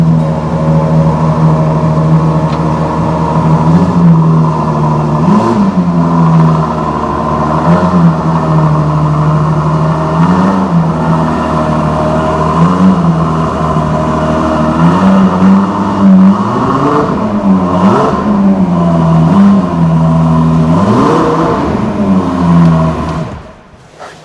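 A Ferrari engine fires up and revs repeatedly, loud and close, with rising and falling surges over a steady idle before cutting off at the end.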